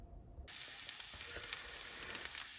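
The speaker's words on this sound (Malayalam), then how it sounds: "ഇനി നമുക്ക് ഈ എഗ്ഗ് സ്ക്രാമ്പിൾ ചെയ്തിട്ട് അതിൻ്റെ മുകളിൽ വെതറാം." Eggs for chicken fried rice hit a hot pan and begin scrambling with a sudden bright sizzle that then holds steady and close.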